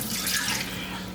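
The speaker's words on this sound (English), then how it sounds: "The water is cool to the touch now, so I'm just going to pour that out." Soaking water pours steadily from a bowl of smoked herring fillets into a sink, a continuous close splashing rush with no talk.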